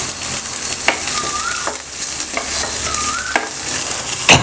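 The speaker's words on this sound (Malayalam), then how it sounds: "നന്നായിട്ട് മിക്സ് ചെയ്യാം." Chopped onion, green chilli and ginger are stirred in a hot pan for poha upma, a steady sizzle with a few distinct scraping strokes of the spoon, close and fairly loud, no voices.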